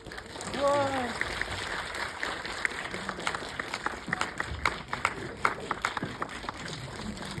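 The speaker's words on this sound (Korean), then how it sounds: "큰 박수로 맞이해주세요." A studio audience greets performers with applause: a short voice rings out first, then steady scattered clapping rolls on with sharp individual claps standing out, fairly soft overall.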